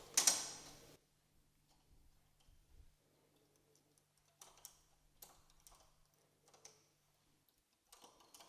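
A domestic knitting machine is used as stitches are moved between needles, giving soft scattered mechanical clicks and small clacks. The clicks come one at a time after a brief louder rustle at the start.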